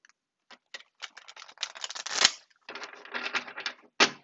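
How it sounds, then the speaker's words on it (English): Tarot cards riffled and shuffled by hand, a run of crisp papery bursts and flutters with short pauses, close and fairly quiet, ending in one sharp final snap. "I'm going to go ahead and shuffle your cards."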